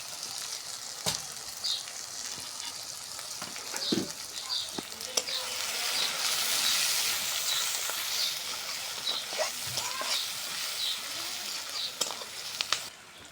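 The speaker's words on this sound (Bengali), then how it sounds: "পেঁয়াজটা আমাদের ভাজা হয়ে গেছে" Chopped onion and garlic sizzle steadily in a pan with cinnamon, cardamom and bay leaf, a continuous close frying hiss with occasional stirring scrapes and small pops, without talk.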